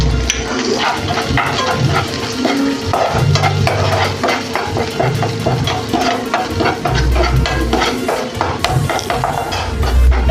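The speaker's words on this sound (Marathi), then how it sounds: "मसाला असा छान परतून घ्यायचा" Masala spices, among them turmeric, garam masala and coriander powder, sizzling and being stirred in hot oil in a pan for a Maharashtrian masala gavar (cluster bean) dish; steady close frying crackle with spoon scraping, no talk.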